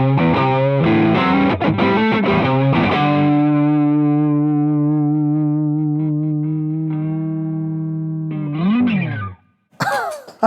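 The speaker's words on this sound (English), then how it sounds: "I'm going to push the front of the Tube Screamer with the other overdrive to add some more texture to it." Electric guitar driven through a Tube Screamer stacked with a second overdrive pedal, playing loud, saturated strummed chords, then a long sustained ringing chord, a bending note and a final short stab.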